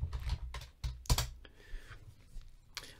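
Close typing on a computer keyboard, a short burst of uneven clicks and clacks with brief pauses between groups of keystrokes, heard alone in a quiet room.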